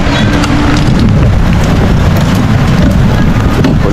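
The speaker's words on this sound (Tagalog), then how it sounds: "Ayan na, malakas ang ulan" Heavy rain pours in a steady, loud broadband roar without a break, close to the microphone.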